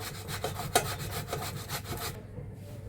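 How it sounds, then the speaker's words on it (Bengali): Boiled potatoes are shredded on a potato cutting machine, giving a steady run of rough, rhythmic grating strokes with one sharper scrape partway through, close and fairly loud, then stopping abruptly near the end. "এই যে দেখেন, সিদ্ধ আলু কাটা মেশিনে আমি করে নিতেছি, এই যে ঝুরি করে নিতেছি।"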